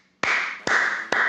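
A commentator claps his hands three times during an eChampions League esports match, each clap sharp and close with a brief ringing tail, spaced evenly about half a second apart.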